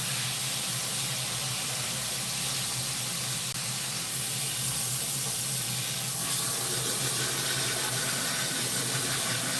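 A water tap runs in a steady, unbroken rush while hair is rinsed, a continuous close hiss with no pauses.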